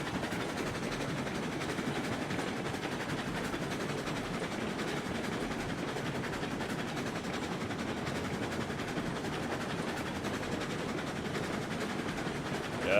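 A train in the RailRoads Online video game rolls along its rails with a steady, even rumble and faint clatter, continuous and unchanging throughout.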